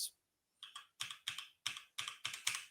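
Fingers type on a computer keyboard in short clusters of crisp, rapid key clicks separated by brief pauses, quiet and close with no voices.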